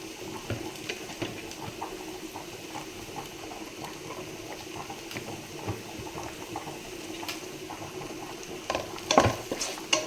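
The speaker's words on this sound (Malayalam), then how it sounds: "തക്കാളി ഇടുന്നു നല്ലോണം വഴണ്ട് വരുന്നവരെ നമുക്കത് അടച്ചിടാം" Tomatoes sautéing in a pan for egg biryani, a continuous bubbling sizzle with scattered pops and a brief clatter near the end, close and steady, no voices.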